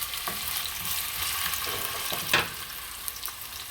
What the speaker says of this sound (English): I put the potatoes in first so they can cook a little bit.